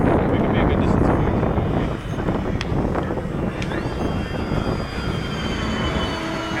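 RC model GeeBee racing airplane flying at an airshow, a steady engine drone at middle distance with wind buffeting over it throughout.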